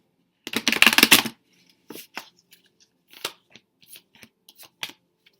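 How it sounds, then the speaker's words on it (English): A burst of tarot cards riffling together, followed by scattered soft taps and flicks as the deck is squared and handled, close and fairly quiet. "Just giving the cards a good shuffle."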